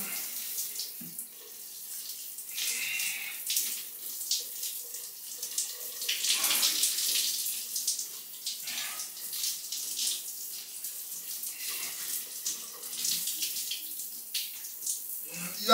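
Cold shower water running and splashing, an irregular hissing spray that rises and falls as the flow hits a body, fairly close and moderately loud, with no speech over it.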